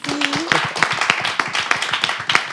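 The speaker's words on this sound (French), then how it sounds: "C'est ça s'applaudit." Small studio audience on a television talk show clapping, a few individual claps spaced irregularly and then building into light applause, with a brief voice heard near the start.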